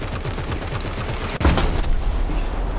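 Gunfire in the War Thunder combat game: a rapid run of automatic shots followed by a sharp loud blast and a rumbling tail, close and prominent with no talking.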